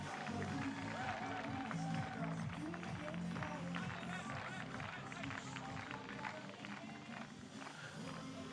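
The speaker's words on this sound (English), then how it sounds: "On peut les applaudir encore plus fort, s'il vous plaît." Spectators at a Japan versus France blind football third-place match applaud and cheer steadily in a continuous crowd roar, with a voice heard over the noise.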